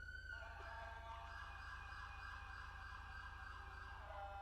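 A synthetic police siren in the FiveM game mod wails steadily at a fixed pitch, held without break over a constant low engine hum.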